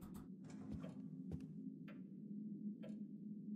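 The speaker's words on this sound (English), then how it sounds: "There's a clock there." A clock ticks steadily in the video game Darkness Within, faint sharp ticks spaced about a second apart over a low humming ambient drone, no talking.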